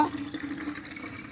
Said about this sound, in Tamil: வெறும் தண்ணி நான் ஊற்றிட்டுருக்கேன்.